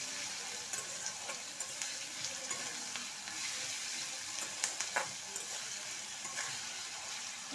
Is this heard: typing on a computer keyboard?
no